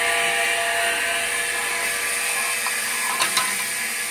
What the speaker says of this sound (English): there it's blowing the thinners out, and hopefully some of the dirt as well